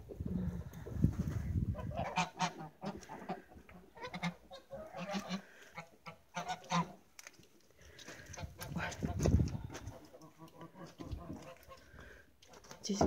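Geese honk repeatedly outdoors in a muddy yard after rain and early September snow, a scattered flock calling close by in irregular bursts, with someone speaking at times.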